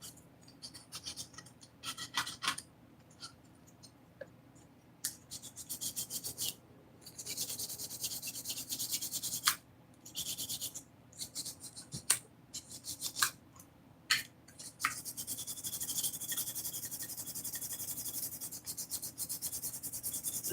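Quiet bursts of sanding scuff across a Kyosho RC motorcycle body, coming in short irregular strokes with brief pauses, close and fairly faint.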